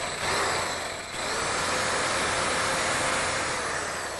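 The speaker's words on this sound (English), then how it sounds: "Take a drill, use the rig as a guide," A lightweight power drill whines steadily at close range, drilling into a lock's set screws through a guide rig, grinding with a harsh high-pitched buzz that briefly dips before continuing.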